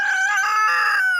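A rooster near a disc golf course lets out a single loud, close crow, a strained harmonic call held for about a second before breaking off.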